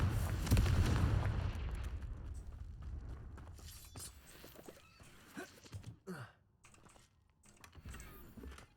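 Confringo fire spell explosion in Hogwarts Legacy, one loud blast at the start that decays into crackling debris, followed by quieter clicks and rustles.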